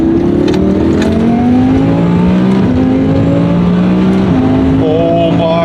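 Twin turbo Audi R8 accelerating hard through the gears, loud engine rising in pitch with sharp drops at each shift and turbo whistle and whoosh, heard from close inside the car.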